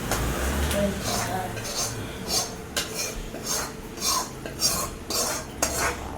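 Metal utensils scrape and clink against a pot in quick, irregular strokes as tempering is poured into dal, with a spoon stirring and tapping up close.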